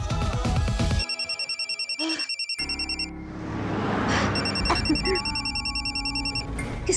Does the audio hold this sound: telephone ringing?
yes